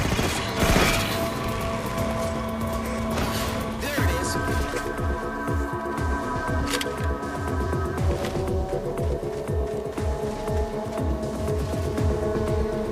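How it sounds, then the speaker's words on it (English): Sustained automatic weapon fire in the Halo 4 video game, rapid shots rattling on in a dense continuous burst, loud and close, with game effects layered over it. "After about 1 second of continuous fire, your reticule gets as big as it's going to."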